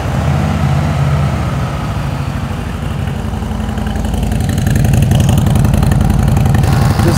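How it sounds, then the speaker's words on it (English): A motorcycle engine idles close by with a steady, loud chugging putter that swells slightly toward the end. "I'm going to start the motorcycle just to ensure that I don't drain my battery off"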